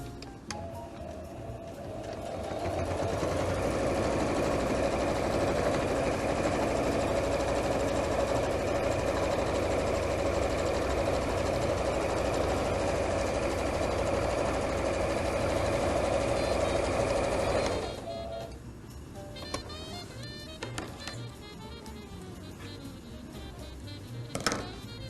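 A sewing machine stitches with white thread in a continuous fast mechanical whir for about fifteen seconds, then stops, leaving quiet handling noises.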